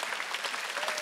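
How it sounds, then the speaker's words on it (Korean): Steady applause fills a church Wednesday worship service, a dense even patter of many hands clapping at moderate volume with no pauses. "박수시작"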